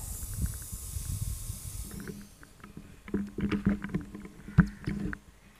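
Air being squeezed out of a pressed balloon, heard close up as soft, irregular sputters, squeaks and rubbery rustles in short bursts, fairly faint overall.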